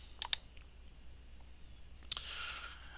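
A computer mouse clicks on an upload button, giving two quick close clicks, then a single click followed by a soft swishing whir.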